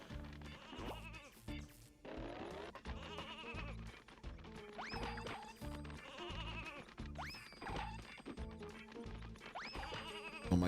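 Sheep in an N64 video game bleat repeatedly in a regular cycle, paired with quick little skittering footstep noises, all over looping game music.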